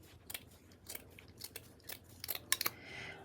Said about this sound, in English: I'm going to trim it here just because it pulled.